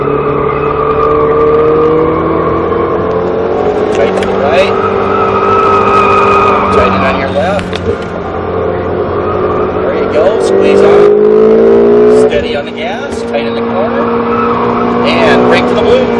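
A Ferrari 488 GTB on a SpeedVegas track roars loudly and continuously, its engine rising and falling through acceleration, upshifts and braking with occasional tire noise, while an instructor talks throughout.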